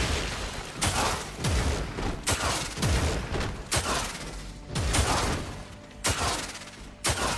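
Repeated firearm shots in the action video game DmC Devil May Cry, about eight loud, sharp blasts spaced irregularly over several seconds, each with a short booming tail.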